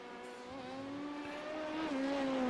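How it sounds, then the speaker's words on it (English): A Corvette GTE race car in a Le Mans racing video game drives on track, its engine droning steadily and climbing in pitch as it accelerates, with a clear gear change near the end, loud and close with no talk. "I'm just taking a look at that Corvette now on track"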